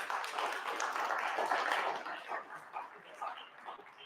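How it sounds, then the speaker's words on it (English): Audience at a bass fishing tournament awards show clapping for anglers, a moderate burst of applause that thins into scattered claps, with a voice talking faintly underneath. "So round of applause for those guys"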